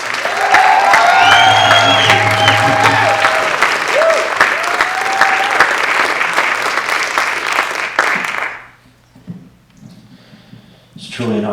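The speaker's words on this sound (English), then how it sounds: "guys clap your hands for the next poet on the stage" A crowd at a poetry reading applauds a poet taking the stage, loud sustained clapping mixed with cheers and whoops that stops abruptly, leaving brief quiet before a voice begins.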